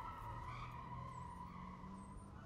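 A car drives off with a device stuck on its tire and screeches in a long, continuous skid over an engine rumble, with a fainter squeal wavering higher up.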